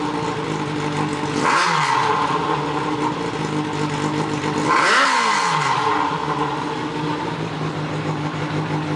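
Honda CB750 motorcycle engine idling steadily after carburetor syncing, then revved twice in quick blips that rise and fall, heard up close with no talk.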